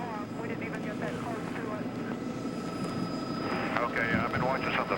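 News helicopter flying over a burning construction crane in Atlanta, a steady distant rotor and engine drone running under continuous talk throughout.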